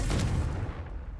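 A Confringo blasting spell goes off in Hogwarts Legacy as a single loud, booming burst that rolls and fades within about a second.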